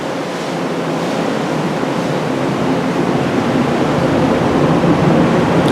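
Strong wind roars across the open deck of the Allure of the Seas cruise ship at sea, a steady, loud rushing buffet against the microphone with no talk.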